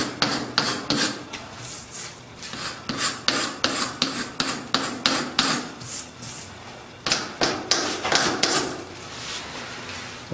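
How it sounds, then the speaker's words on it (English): A slag hammer taps over and over on material to distress it for a finished product. The close, sharp knocks come in a quick uneven series with a short pause midway, over a faint rasping background. "we will go over the little tiny holes that we made with the slag hammer, and we're just distressing the material"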